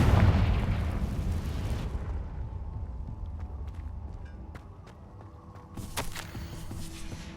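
A Confringo fire spell detonates in Hogwarts Legacy, a loud, near blast with a deep rumble that fades over a couple of seconds, followed by quieter crackling and a few sharp pops.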